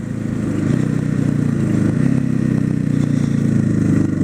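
Motorcycle engine winding out high in fifth gear, a loud, close, sustained drone with a rough, clattering texture that holds steady throughout, with no voices.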